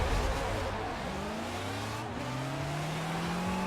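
Forza Horizon 4 car launching from a standstill at full throttle with traction control on, the engine revving up through rising pitch continuously and loudly, with no talk over it.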